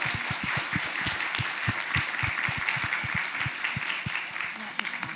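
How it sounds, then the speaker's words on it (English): Audience applause for a panel at a regional health meeting on violence prevention in the Pacific, a steady wash of many hands clapping close by, continuous and even for the whole stretch with no talk over it. "I'm just want to give a round of applause to our panel"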